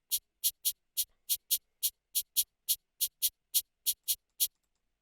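UK drill shaker pattern built in FL Studio with Fruity Panomatic panning it from left to right: crisp, bright shaker hits in a quick, regular rhythm of pairs and singles, alone against silence.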